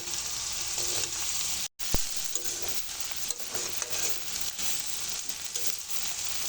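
Bitter gourd and shrimp fry in hot oil with a steady, close sizzle and crackle that runs throughout, broken only by one brief silent gap early on.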